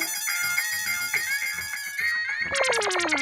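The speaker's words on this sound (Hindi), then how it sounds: "अरे वो डिलीवरी बॉय का फोन है।" A mobile phone ringtone plays loud and close, a repeating electronic melody that shifts into rapid pulsing chirps near the end, with no talking over it.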